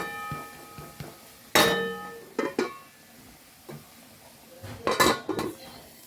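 A spoon clanks and scrapes against a pan while fish curry cooks in coconut oil, giving a few sharp metallic knocks separated by quiet gaps.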